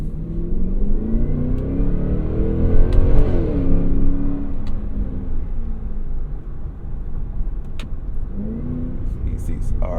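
Supercharged 2024 Cadillac Escalade V engine revving up loudly and steadily, the rising engine note filling the cabin with a continuous, broad rumble throughout.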